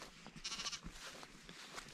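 Sheep on a farm give a short, close bleat, wavering and fairly faint against soft outdoor background noise, with no talking.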